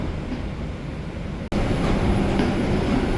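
An NYC subway 5 train stands at New Lots Avenue, filling the space with a steady mechanical rumble. A sudden brief dropout in the middle is followed by a slightly louder, constant hum.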